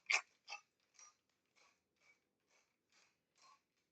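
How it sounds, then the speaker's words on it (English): A pepper grinder cranks fresh black pepper in a kitchen, making eight short dry grinding ticks in a slowing rhythm, loudest at first and fading, close and alone. "I'm going to grind it fresh for our recipe here."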